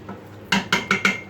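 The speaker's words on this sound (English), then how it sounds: "I'll give it a good stir." A spoon clatters against the metal pot of an Instant Pot while stirring ingredients, four sharp scraping knocks in a steady rhythm after a short quiet moment, close and fairly loud.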